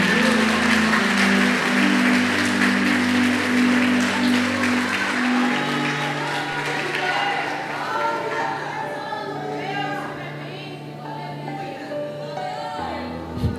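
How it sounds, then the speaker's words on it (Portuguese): A church congregation applauds during a sermon, a dense wash of clapping that starts loud and gradually thins, with sustained low organ or keyboard tones underneath and scattered voices. "Aplauda Jesus aí, que é coisa rara disso."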